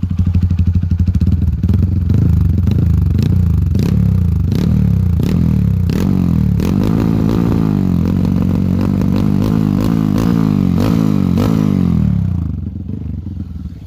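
A Honda CRF bore-up motorcycle with a GP7 Seca exhaust blips again and again in quick rhythmic revs, loud and close, the engine rising and falling before it settles toward idle.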